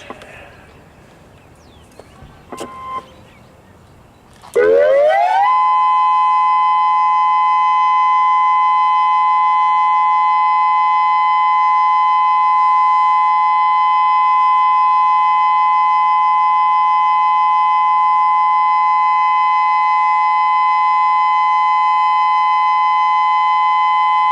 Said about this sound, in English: This is a test of your outdoor siren system.